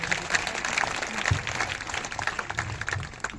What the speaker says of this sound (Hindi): जोरदार तालियां बजाएंगे सभी